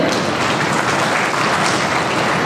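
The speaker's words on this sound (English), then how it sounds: "Now have a big round of applause for yourself" Students applaud at a school debate event, a full, even burst of many hands clapping together without any speech over it.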